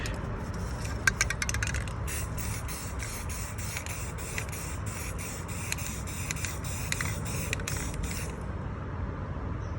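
Rust-Oleum camouflage spray paint hisses from an aerosol can onto a custom toy bunker, with a string of short close bursts over a faint steady background.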